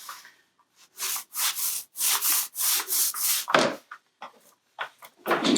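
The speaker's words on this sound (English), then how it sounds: "I'm going to roll glue onto both sides of the lamination simultaneously" A roller spreads glue onto both sides of wood laminations in rhythmic, rasping back-and-forth strokes, close and fairly loud, with a few short pauses and a louder burst near the end, and no one speaking.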